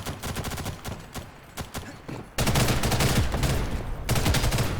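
Rapid bursts of gunfire in the online shooter Ghost in the Shell: First Assault Online, scattered shots at first, then a dense, loud continuous volley.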